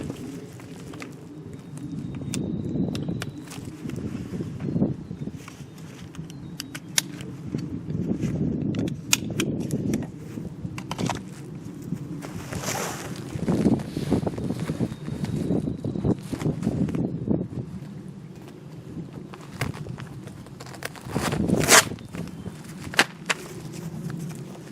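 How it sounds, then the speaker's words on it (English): Someone quickly puts on tactical gear: soft, scattered rustling, clicks and light knocks of straps, buckles and equipment at close range, coming in uneven bursts. "I'm going to demonstrate me putting all my gear on and being ready to go within a minute"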